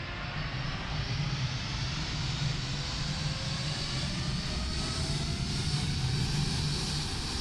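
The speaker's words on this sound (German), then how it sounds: "jetzt startet wirklich live eigentlich dieses Flugzeug in New York" A passenger airplane's engines run steadily in a flight simulator game, with a New York departure, giving a continuous broadband roar with low engine drone throughout, moderately loud and with no talk over it.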